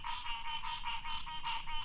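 Frogs heard from a sailboat on the Intracoastal Waterway near Florida croak in a steady, dense chorus of rapid repeated calls, moderately loud and continuous with no talking.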